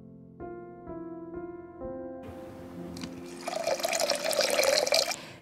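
Water runs and splashes into a rice cooker pot of rice, starting as a thin stream and growing louder and fuller, after a few soft musical tones at the start.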